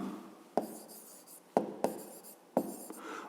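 Handwriting during a fifth-grade maths exercise, pen strokes scratching on paper in short bursts with several sharp taps, close and fairly quiet, with no talking.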